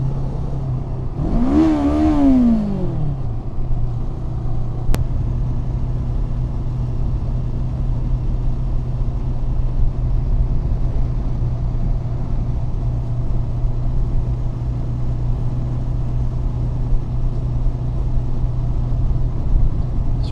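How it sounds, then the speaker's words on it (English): Kawasaki Ninja 650 motorcycle engine revving near the start with a quick rising-and-falling whine, then settling into a steady low drone of riding and road noise that carries on alone for the rest of the stretch. "But in real life, I can really feel and hear this bike,"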